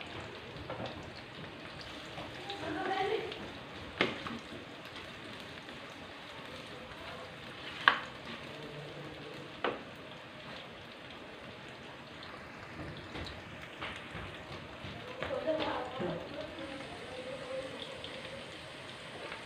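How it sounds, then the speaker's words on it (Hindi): Chopped medium onions browning in hot oil, giving a steady soft sizzle and crackle throughout with a few sharper pops, no talking. "ये देखिए हमारा प्याज ब्राउन हो रहा है।"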